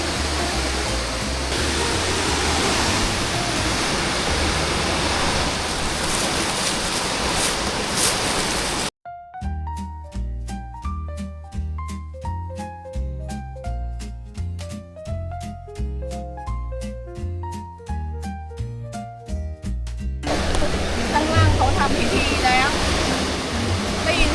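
Huai Kaeo Waterfall in Chiang Mai rushes with a dense, steady roar for the first nine seconds. Music briefly replaces it, then the loud, continuous water noise returns for the final few seconds.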